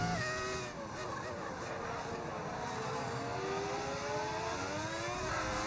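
Modded Formula One car engine in a racing video game, a sustained high-pitched whine with shifting harmonics as it accelerates and changes gear, steady and fairly prominent with speech over it.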